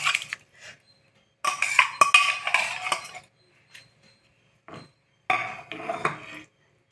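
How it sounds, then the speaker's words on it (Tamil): A spoon scrapes and clinks against a metal pot while stirring soaked millet for upma, in several bursts separated by short silences, close and fairly loud. "இதை நல்லா கிளறிட்டு"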